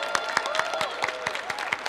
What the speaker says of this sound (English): Let's give Mayor Breed another round of applause.